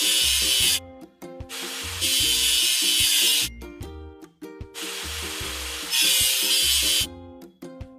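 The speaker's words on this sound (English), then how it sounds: "Let's get rid of the machine's rust." A toy digging machine has its rust worked off by a power tool in two long, loud bursts of grinding hiss. Between them come rhythmic tapping and clunking sounds with a musical backing underneath, and no one speaks.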